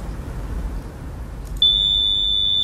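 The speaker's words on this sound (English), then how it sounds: "this is the wave from the second buzzer. Now let us start both together" A steady, piercing electronic buzzer tone starts abruptly partway through, with two tones sounding together over low background rumble.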